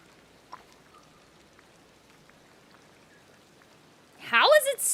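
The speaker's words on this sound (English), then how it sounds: "How is it still raining?" Steady rain falling in the video game Disney Dreamlight Valley, a faint, even patter that runs throughout, with a voice speaking over it near the end.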